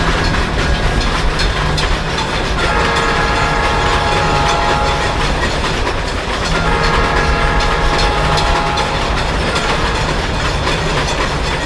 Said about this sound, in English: I gave the train the Amtrak Avelia Liberty horn.